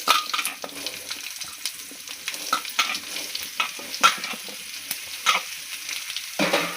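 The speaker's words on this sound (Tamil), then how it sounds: "இப்போ மாங்காயை ஒரு வதக்கு வதக்கிக்கலாம்." Raw mango pieces are sautéed with curry leaves in a hot pan for a sweet mango pachadi. A steady sizzle runs under repeated scraping and stirring knocks from a spoon, with no voices.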